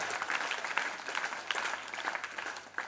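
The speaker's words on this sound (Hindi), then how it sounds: "सभी मंच पर विराजमान लोगों के लिए वीर ताली" A seated crowd at a Hindi-language stage gathering claps, a dense, fairly loud burst of audience applause lasting about three seconds without pause or talk.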